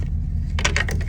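A sewage cap being fitted onto an RV outlet: a brief, close burst of light clicks and rattling clatter over a steady low rumble.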